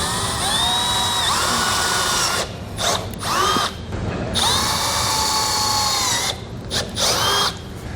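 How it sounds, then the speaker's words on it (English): A power drill with a 5/16-inch bit drilling through metal whines steadily in long bursts, pitch rising and dipping as it bites, with short pauses between runs and no talking. "we'll take a 5/16 drill bit and we're going to drill out the location"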